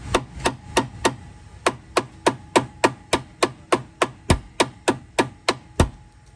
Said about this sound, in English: That's where I'll use the plastic side of this hammer and just tap them.